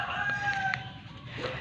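A rooster crows on a farm, with one crow rising over steady background noise.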